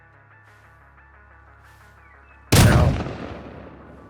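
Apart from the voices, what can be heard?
double barrel shotgun firing in the Rust video game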